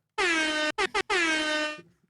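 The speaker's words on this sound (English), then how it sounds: "Blow the air horn." A loud air horn blasts alone, a long sustained honk followed by two short bursts and another long blast, ending abruptly.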